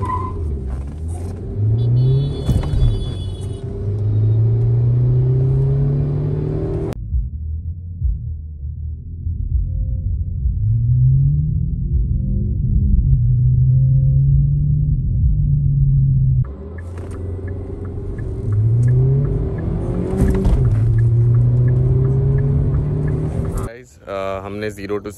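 A Hyundai Verna SX car accelerating hard from a standstill on a wet pitch during a 0-60 performance test, engine revs climbing and dropping in repeated gear-change sweeps, loud and close, with talk over it.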